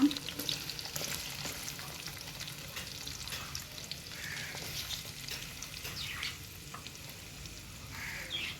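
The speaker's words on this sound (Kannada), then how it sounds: "ತುಪ್ಪ ಮತ್ತೆ ಎಣ್ಣೆ ಕಾದ ನಂತರ ಈರುಳ್ಳಿ ಹಾಕುವ" Chopped onions frying in hot ghee and oil in a home kitchen while making chicken green masala with spinach, giving a steady close sizzle and crackle with occasional stirring scrapes throughout, no one speaking.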